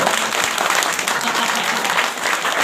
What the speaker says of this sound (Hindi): अच्छी लगी तो ताली बजा दो।